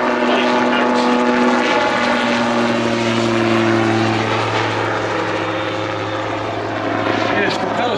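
A Rotorsport Calidus gyroplane drones steadily overhead with a low, thrumming engine and propeller hum that stays loud and constant throughout.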